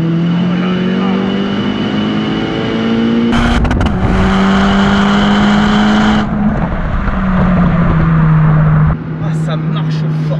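A 400-horsepower Polo WRC rally car engine revs and accelerates steadily, pitch climbing through gear changes, loud and close throughout.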